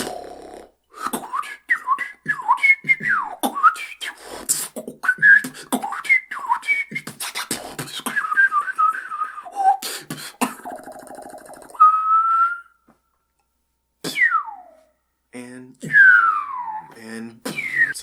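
Human whistling demonstration with many short bursts: chirps, warbles, sharp slides and quick trills, heard close and loud, broken by brief pauses, with a few breathy noises between phrases.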